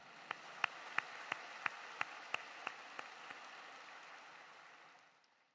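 Applause in a church, heard as a sharp, evenly spaced rhythmic clap about every third of a second over a soft crowd wash, fading out toward the end.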